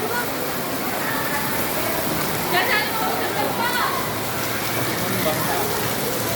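Heavy rain hisses steadily across a surface at a flooding school, a dense, even wash of sound with a brief faint voice partway through.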